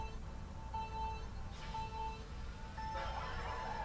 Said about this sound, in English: Well, she's in an ice cream truck.